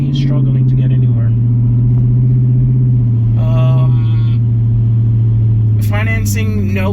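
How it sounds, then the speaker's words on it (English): A 2011 Dodge Charger V6 engine drones loud and close in a low, steady tone that rises and falls slightly as it strains to pick up speed. Someone talks throughout. "That is a V6. You can definitely tell, and he's struggling to get anywhere."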